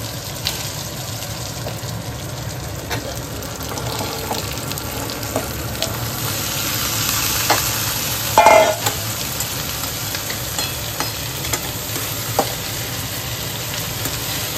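Mixed vegetables go into a pan of oil already frying ginger paste and five-spice. A continuous sizzle runs throughout, with a few clunks of stirring and a brief louder burst midway, and no voices.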